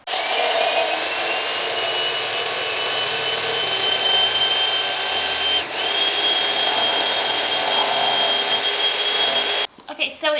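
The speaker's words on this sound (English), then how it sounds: "So we're going to start by whisking the heavy whipping cream, getting it its fluffy consistency" Heavy whipping cream is whipped until fluffy with an electric mixer, a loud, steady, high motor whir running continuously and briefly cutting out near the end, with some talk over it.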